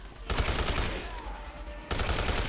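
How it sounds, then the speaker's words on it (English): Gunfire in the Dead Rising Deluxe Remaster video game: dense rapid bursts of automatic shots, loud and close, broken by a brief lull before another burst. "I hear a guy shooting. What the hell is he shooting at?"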